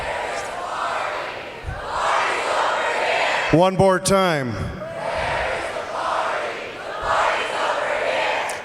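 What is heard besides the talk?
graduating class shouting the party cheer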